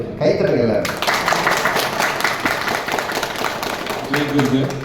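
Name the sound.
applause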